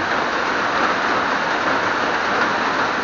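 Heavy morning rain pours in a dense, steady hiss, unbroken and fairly loud throughout, with no voices.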